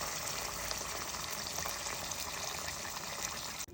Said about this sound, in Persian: الان توی این مرحله تفت دادیم، بهش آب جوش اضافه میکنیم.